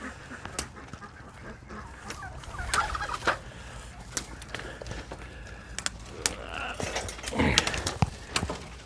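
Geese in a breeding pen honk and call intermittently, with several close, loud squawks among scattered clicks and handling noises in the background.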